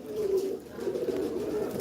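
Pigeons cooing nearby, soft low repeated coos rolling in a gentle rhythm across a quiet background, with no one talking.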